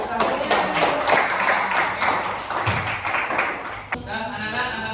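A sixth-grade class claps together in a classroom to applaud the groups, a dense burst of many hands close by that fades near the end.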